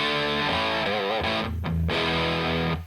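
A loud electric guitar through a cranked Ceriatone JTM45 amp and Big White Monkey attenuator, heavy distortion, a few sustained notes and bends, then the sound cuts off abruptly.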